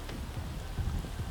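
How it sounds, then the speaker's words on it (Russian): Steady rain falling outdoors, a dense, even hiss of drops with occasional heavier patters close by, continuous and moderately loud with no talk. "идет дождь, и мне это не нравится"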